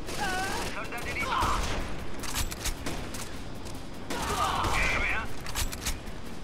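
Gunfire in the video game Rainbow Six Vegas 2, rapid bursts of shots crackling in two clusters over a steady background din, with voices chattering faintly in between.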